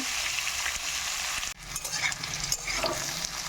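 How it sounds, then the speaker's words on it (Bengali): Carrot, radish and potato frying together in a pan for a mixed vegetable dish, giving a steady, close, continuous sizzle with a brief stirring clatter midway and no talking. "গাজর আর মূলোটাকে আর আলু একসাথে আমি একটু ভাজা করে নেব"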